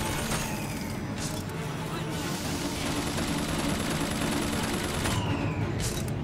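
Automated turret in Bioshock Infinite firing at enemies, a sustained loud burst of rapid gunfire with game noise running throughout.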